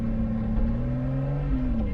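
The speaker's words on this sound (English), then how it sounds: "It's got a great exhaust note." Exhaust note of a Porsche 904 while driving: a steady, fairly loud droning engine tone with slowly shifting pitch, heard close from the car, no voices.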